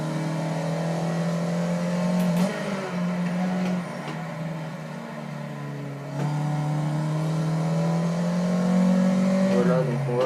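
A car revs and accelerates hard on the Bugatti circuit at Le Mans, its engine climbing steadily in pitch with a couple of gear shifts, loud and close throughout with a speaking voice faintly underneath.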